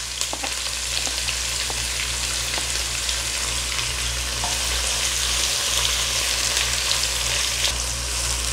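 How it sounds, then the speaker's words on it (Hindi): Thin-sliced onions frying with whole garam masala spices, giving a loud, dense, continuous sizzle that holds steady from start to finish, close up and with no talking. "प्याज को अच्छे से फ्राई कर लेंगे"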